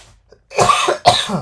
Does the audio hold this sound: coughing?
yes